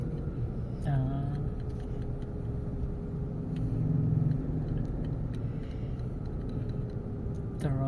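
Road traffic rumbles steadily from inside a car on the school pickup run, a low, continuous engine and tyre drone with passing vehicles, while people talk quietly at moments.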